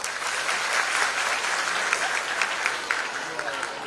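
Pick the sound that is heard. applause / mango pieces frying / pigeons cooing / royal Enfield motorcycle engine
applause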